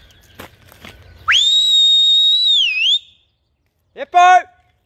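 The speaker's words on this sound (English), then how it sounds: "I'm going to give her the loud whistle." A loud, piercing sustained human whistle on a farm holds for nearly two seconds, then a brief pause and a short second whistled burst, with faint background noise before.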